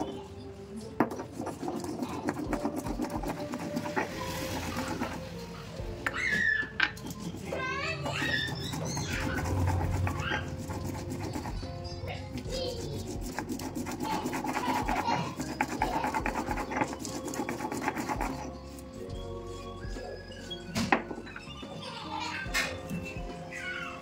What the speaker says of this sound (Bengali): শিলে তো পোস্ত বেটে নিচ্ছি, পোস্তটা শিলে বাটলে বেশ ভালো হয় খেতে